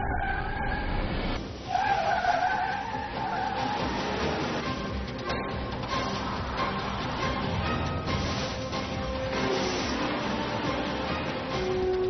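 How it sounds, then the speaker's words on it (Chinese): A car brakes hard during a stopping test, its tires skidding and squealing against the road in a loud, continuous scrape that lasts throughout, with no voices. "准备刹车，准备刹车。"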